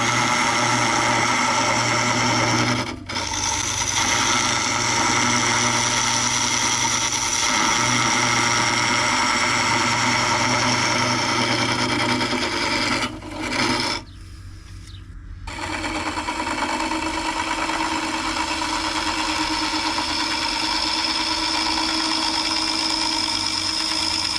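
A wood lathe spins while an EasyWood mid-size hollower with a small carbide cutter hollows a segmented vase through a 3/4 inch hole. A loud, steady motor drone hums throughout with a few brief dips.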